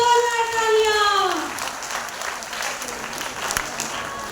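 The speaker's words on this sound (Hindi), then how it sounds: "जोरदार तालियां, जोरदार तालियां।" Loud applause from an audience at a women's stage play about the Buddha's renunciation, a steady wash of clapping that begins over a fading sung or held tone and continues alone to the end.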